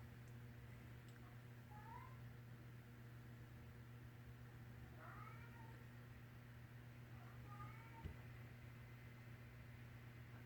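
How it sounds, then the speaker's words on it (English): A cat meows three times, faint and somewhat distant, over a steady low hum of a fan or appliance. "That cat is meowing again."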